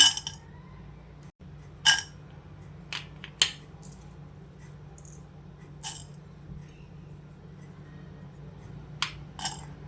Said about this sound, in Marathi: आता इथे कढईमध्ये हे मी ड्रायफ्रूट्स टाकून घेते